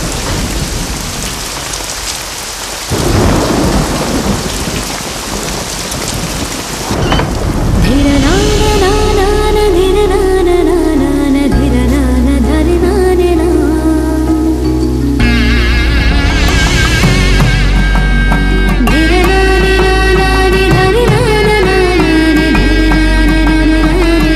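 Heavy rain pours steadily with rumbling thunder in a movie scene, loud and close, and a dramatic music score rises over the downpour partway through.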